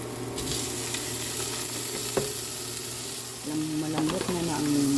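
Mung beans sizzle steadily in a hot frying pan, a continuous close crackle with a brief scrape of stirring near the end and no talking.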